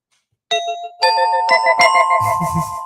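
A Jetsons doorbell rings out several bright, harmonic ding-dong chimes in quick succession, loud and close, with the tones overlapping and ringing on.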